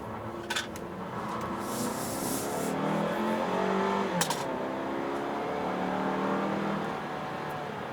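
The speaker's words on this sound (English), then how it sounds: "It's a typical Toyota 4-cylinder. It's their bigger 4-cylinder, so it's smooth, it's refined, it revs relatively quickly" A 2017 Toyota Camry XSE four-cylinder engine hums steadily from inside the cabin, rising in pitch as it revs up smoothly, with a couple of brief clicks and rustles along the way.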